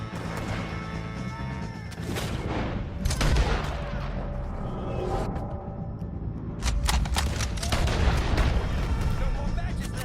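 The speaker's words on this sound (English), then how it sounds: "shoot some of these O'Driscolls!" Heavy gunfire during a shootout with O'Driscolls in Red Dead Redemption 2, repeated loud shots and booming impacts over a constant battle din, with voices shouting through it.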